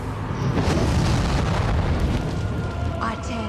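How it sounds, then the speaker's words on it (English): Fire erupts from a pit as a supernatural effect in Chilling Adventures of Sabrina, a dense, rumbling roar of flame with booming low energy sustained throughout, loud and close. "Call forth fire from the pit!"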